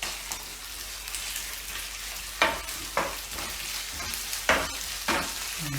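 Chopped onion and about a teaspoon of garlic paste frying in a pan, a continuous hissing sizzle with several sharper stirring scrapes and clacks spaced through it, close and moderately loud.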